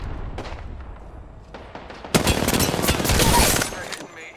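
Gunfire during a video game battle: scattered single shots at first, then a dense, loud volley of rapid automatic fire with booming impacts toward the end.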